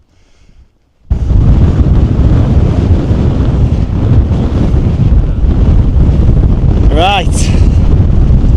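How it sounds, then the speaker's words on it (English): Strong, gusting wind buffets the microphone on the exposed summit of Stybarrow Dodd in the Lake District, a loud continuous roar after a quiet start, with a brief word spoken near the beginning. "a very, very windy Stybarrow Dodd"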